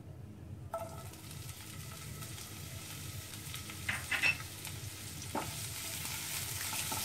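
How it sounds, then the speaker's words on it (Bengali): Onion frying in a pan for a Bengali fish curry (bata machher jhal), a soft steady sizzle with occasional stirring scrapes and clinks, fairly quiet and without talk. "পেঁয়াজটা একটু ভাজতে হবে"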